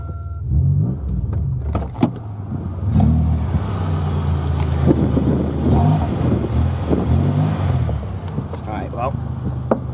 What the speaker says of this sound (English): She's got an exhaust leak.